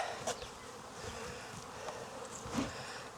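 Honeybees buzz steadily in an outdoor bee yard at a Florida apiary, a dense continuous hum with a few louder passes as individual bees fly close by.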